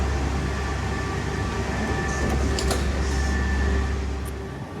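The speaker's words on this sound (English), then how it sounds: "Yeah, that was a nice tram." A tram passes on a city street in Sofia, Bulgaria, as a steady low rumble with a faint electric whine. A few brief high squeaks come through near the middle before the sound slowly fades, with no talking.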